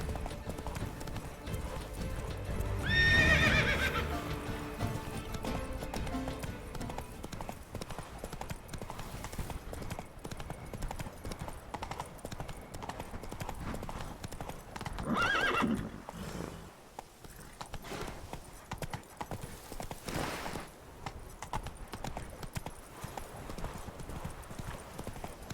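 A horse in the Witcher 3 video game walks with steady clip-clopping hooves throughout, whinnying loudly early on and again midway, with faint voices occasionally underneath.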